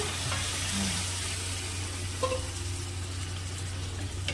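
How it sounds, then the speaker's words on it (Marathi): Soft, steady sizzling of chicken frying in masala in a pan, with a low hum underneath and a faint clink partway through. "आता आपण चिकन ॲड करू"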